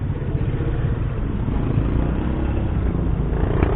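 A Honda PCX160 ABS scooter engine idles with a steady low, even rumble and mild mechanical purr, close and continuous throughout with no talk over it.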